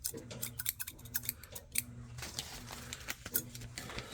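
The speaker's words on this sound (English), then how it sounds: "Can't find a knife, but I found a pair of scissors." A pair of household scissors snips open a wax pack of 1975 trading cards, a series of sharp, close-up clicking cuts in irregular bursts with brief pauses between.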